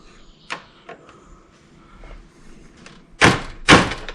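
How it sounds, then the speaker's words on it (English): Circuit breaker being knocked off its panel clip with a piece of wood: a few sharp wooden knocks, then two loud, close thuds near the end, with quieter rustles between. "we're going to take a piece of wood, and this is the breaker right here, so we're going to knock it off of that clip that's in there"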